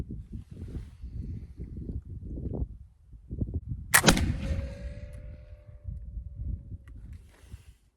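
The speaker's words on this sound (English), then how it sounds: "Gun is ready to fire." A Brown Bess flintlock musket loaded with a buck and ball paper cartridge fires once, a sharp loud blast with a short ringing tail, amid outdoor wind and handling noise.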